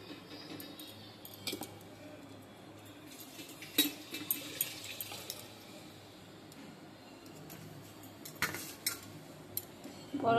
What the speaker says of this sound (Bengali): এখন মেয়েদের জন্য ভাত বেড়ে নেব